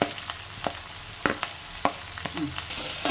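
Sliced onions fry in a pan while being stirred, a soft continuous sizzle broken by repeated quick scraping clicks of the spoon against the pan, heard up close with no talking.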